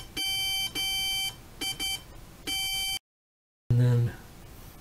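A Morse code trainer sounds a steady high beep tone in short and long bursts forming dots and dashes. The beeps stop in a brief silence, and a voice follows.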